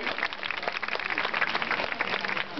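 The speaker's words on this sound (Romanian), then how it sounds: "aplauze și strigă-te, rogu-vă, pentru acești dragi cavaleri" Spectators at an outdoor horseback jousting tournament in Brasov clap in a thick, continuous patter, moderately distant and fairly quiet, with no clear voices on top.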